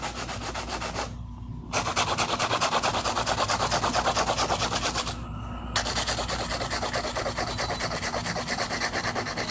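Hand filing of nails shaped on c-curve tips: a fast, rhythmic rasping of strokes, close and continuous, broken by two brief pauses, with a low steady hum beneath.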